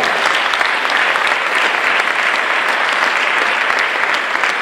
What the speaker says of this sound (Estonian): Ja teeme ühe aplausi